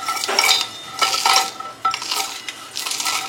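Whole spices dry roasting in a pan, with bursts of metallic scraping and clinking as a spoon stirs them around, coming in uneven strokes at close range with no talk.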